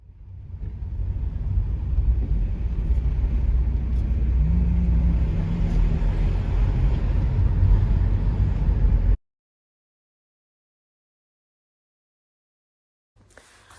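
A car driving on the road from the airport in Calabria, Italy, a steady low engine and tyre rumble with a brief rising tone midway, continuing for about nine seconds before cutting to silence, then a faint return at the end.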